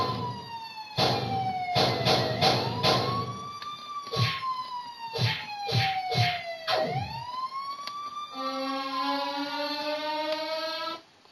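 A wailing police siren sweeps up and down, cut by bursts of short yelps, then gives way to steady tones at the end.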